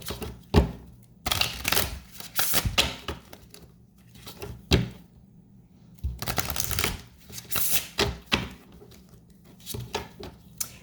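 Tarot cards being shuffled by hand in repeated riffling bursts, crisp papery flutters and slaps that start and stop in clusters, close and fairly loud, with no talk over them.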